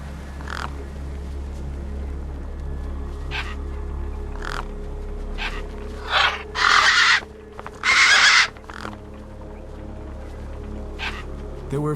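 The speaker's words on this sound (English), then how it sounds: "The gang birds were eyeing up the corpse hungrily." Gang birds, crows in the game Beyond a Steel Sky, caw over a corpse: scattered harsh calls repeat at intervals over a low steady hum, with two louder, longer bursts near the middle.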